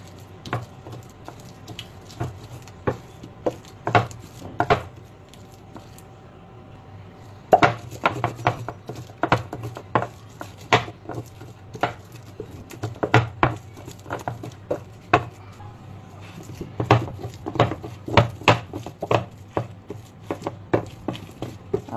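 Boiled shrimp, potato and onion are mashed by hand with a masher for a coarse bharta, giving irregular clusters of soft thuds and squishy knocks against the bowl, close up, with short pauses between bursts and no talk.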